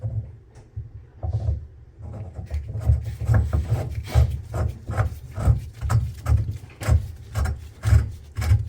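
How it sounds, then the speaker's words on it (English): A tap cutting and scraping out a pipe thread, rhythmic grinding strokes of metal on metal repeating steadily and close, after a quieter start. "Oh yeah, scraping it out."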